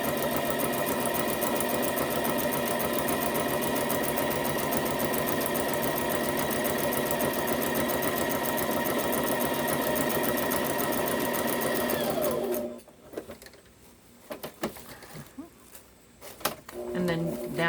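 A sewing machine runs steadily, stitching along a seam where two pieces of fabric meet, loud and continuous for about twelve seconds before stopping abruptly, leaving faint handling noises and quiet rustles.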